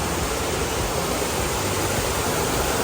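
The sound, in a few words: flowing water of a river stream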